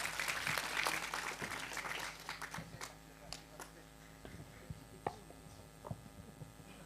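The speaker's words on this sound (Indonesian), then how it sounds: "Tepuk tangan semua untuk Pak Gunawan" Clapping from a gathered audience at an outdoor community talk and music event, a burst of scattered applause that fades into sparse claps and background hum after a few seconds.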